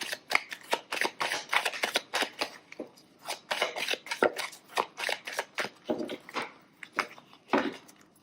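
Oracle cards being shuffled by hand, a quick run of crisp papery riffles and slaps at close range, steady and alone, no talk.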